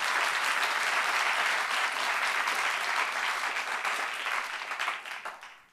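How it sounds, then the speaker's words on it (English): An audience applauds a freestyle football performer, a dense, sustained wash of clapping that holds steady and then thins and fades out near the end. "So another round of applause for Liv."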